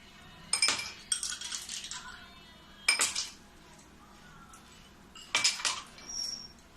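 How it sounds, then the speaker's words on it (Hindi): Ice cubes dropped into two glasses for orange sharbat, three bursts of close, bright clinking and rattling separated by short pauses. "अब इसमें मैं थोड़ा सा बर्फ डाल दूंगी"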